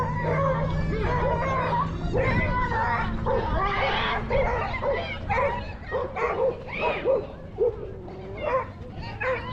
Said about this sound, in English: I want you to see what happens when these two dogs start fighting